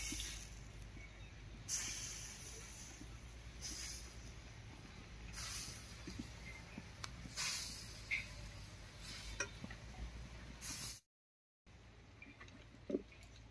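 Brinjal slices dry-frying in a pan without oil give a faint, steady low sizzle, broken by occasional sharp clinks and scrapes of a utensil against the pan, with a brief silent gap near the end.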